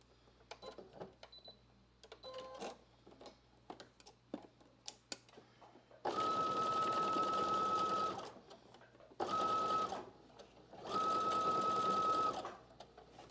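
A sewing machine runs in three bursts stitching a muslin seam, steady whirring with a clear hum, separated by short pauses, after an opening stretch of small clicks and handling noises.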